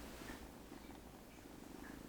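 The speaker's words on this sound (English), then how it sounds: "Can you hear him purring from there?" A cat's soft, steady purring heard indoors, faint and continuous with low rumbling texture, no talking over it.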